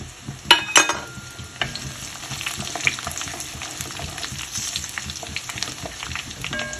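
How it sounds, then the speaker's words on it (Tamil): Garlic and dried red chillies fry in a heavy kadai with a steady crackling sizzle, broken by a few louder scrapes and clinks of stirring near the start and throughout. "பூண்டு நல்லா வறுபட்டுருச்சு, மிளகாயும் வறுபட்டுருச்சு"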